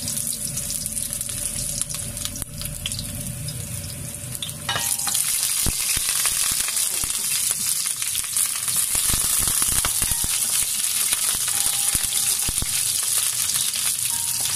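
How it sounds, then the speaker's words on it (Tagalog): Ginger sautéing in hot oil in a pan for chicken paksiw made from leftover Christmas roast chicken, a softer sizzle jumping to a loud, steady crackle midway with scraping stirs, close and without voices. "Igisa na natin"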